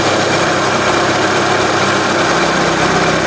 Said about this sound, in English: the engine is idling normal without any talking